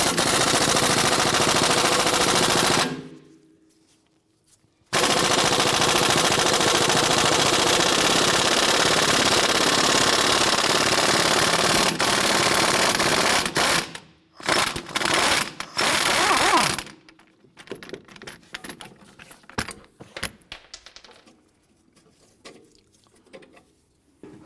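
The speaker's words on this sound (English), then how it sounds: "Using a 14mm socket, I'm going to go ahead and remove our upper clevis fork bolt here." A 14mm socket on a ratchet works loose the upper clevis fork bolt on a 2004-2008 Acura TL, giving dense rapid clicking that runs loud for long stretches, then breaks into shorter bursts and scattered knocks.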